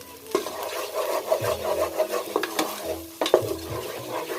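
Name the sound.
stirring food frying in a pan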